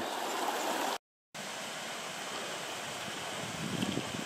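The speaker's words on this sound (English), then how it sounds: "Look at that waterfall coming right out of the side of the hill." A cold, spring-fed stream and a waterfall spilling out of a hillside produce a steady rushing wash of water, constant and moderately loud, with a brief dropout near the start.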